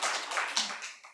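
A small church congregation claps briefly during a Korean Sunday sermon, a short burst of several hands patting together, fairly close and moderately loud, fading toward the end.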